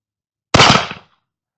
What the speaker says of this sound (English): I'm just a dummy shooting cap and ball revolvers